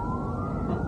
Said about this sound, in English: Guaymas and all the sirens and noise and the yard and everything.